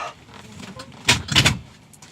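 A Honda car door with a broken inside handle is handled: after a quiet stretch, a couple of close, sharp clunks and rattles come in quick succession, with faint talk nearby.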